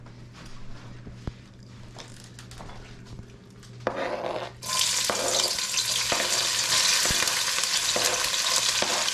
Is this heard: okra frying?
yes